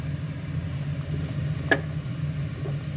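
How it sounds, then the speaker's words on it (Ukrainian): Liver filling stewing in a covered pan for fried pies, giving a steady low sizzle and bubbling throughout, with one brief sharp click partway through and no voices. "Все так тушкується досить такими великими шматочками"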